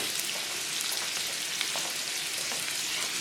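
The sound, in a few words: hamburger patty sizzling and popping in a pan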